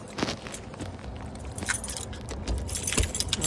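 Car keys jangle and clink repeatedly close by as a car is locked outside a home, light metallic rattles scattered over faint background noise.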